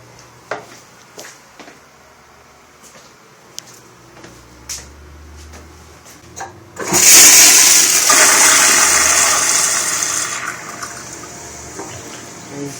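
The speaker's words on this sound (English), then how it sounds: "This type of pressure assist from Gerber." A Gerber pressure-assist toilet using 1.6 gallons per flush fires with a sudden loud forceful whoosh that rushes for about four seconds before tapering into refilling water, after a few quiet clicks and knocks.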